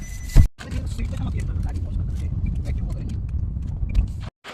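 A car engine running steadily after finally starting, a continuous low rumble heard close by, opening with a loud thump and briefly cutting out at the end.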